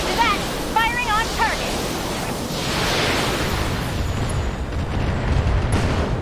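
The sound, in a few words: mech weapons firing on target in Battletech video game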